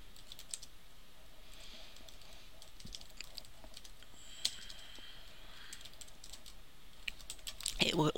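Keys clatter on a computer keyboard while text is entered in an Excel spreadsheet: a faint, quick, uneven run of soft taps close by, ending in a louder burst of keystrokes.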